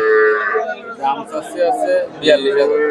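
Friesian heifer cattle at the Shahapur cattle market give a few short, low moos amid crowd chatter and nearby talking voices.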